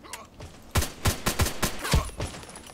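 Gunfire from an HK417 rifle in a shooter video game: a rapid volley of about seven sharp, loud shots in quick succession, close and punchy, with no talking.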